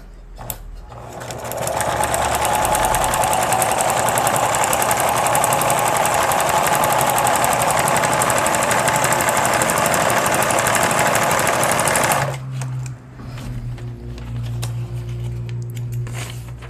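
A sewing machine runs a straight seam through paper with thread, a loud, steady mechanical whir lasting about eleven seconds before it cuts off and leaves a quieter background hum.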